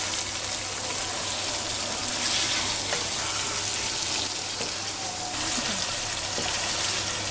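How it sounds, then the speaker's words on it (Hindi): Chicken karahi with lemon juice frying steadily in a pan, a continuous crackling sizzle with a faint low hum underneath, no voices. "इसे आपने अच्छे तरीके से पकाना है। 1 से 2 मिनट तक इसे भी फ्राई कर लेंगे।"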